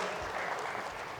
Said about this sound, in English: So I think let's applaud on this.